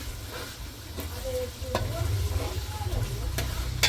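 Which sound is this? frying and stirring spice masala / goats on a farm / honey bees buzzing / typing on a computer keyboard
frying and stirring spice masala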